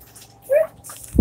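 A dog gives one short, high yip close by, with a faint scuffle just after and no talking.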